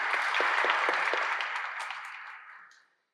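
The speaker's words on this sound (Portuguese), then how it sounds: "outra salva de palmas" Audience applause at a Pfizer-sponsored satellite medical symposium: a full burst of clapping that holds steady, then thins and fades out over about three seconds.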